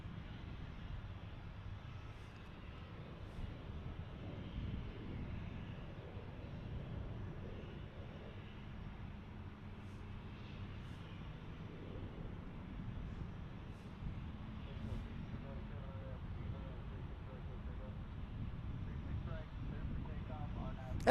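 An Airbus A321 in special PSA livery taking off at a busy airport: a low, steady jet engine roar heard from a distance, faint and muffled, with voices talking over it.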